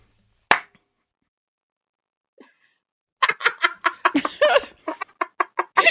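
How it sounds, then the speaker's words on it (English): A slow clap, a few sharp isolated hand claps with long gaps, followed by a quick burst of lively clapping and laughter-like sounds close by. "there's a slow clap"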